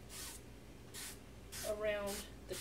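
Short hissing bursts of an oil sprayer misting olive oil around the edge of a pizza crust on the Asiago cheese side, several quick sprays in a row at close range with faint background hum.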